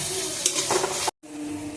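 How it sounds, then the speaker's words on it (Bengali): Onions hit hot oil in a pan, giving a steady close sizzle that briefly cuts out before resuming. "এবার এই তেলে আমি পেঁয়াজটা দিয়ে দেবো পেঁয়াজটা লাল লাল করে এদিকে ভাজা হোক"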